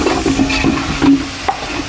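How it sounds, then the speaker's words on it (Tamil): Biryani masala with ginger-garlic paste, coriander and mint stirred and sautéed in a pan, a close steady sizzle broken by repeated scraping strokes of the spoon, with no voices. "பிரியாணி மசாலா நல்லா கிண்டிக்கிட்டே இருங்கக்கா"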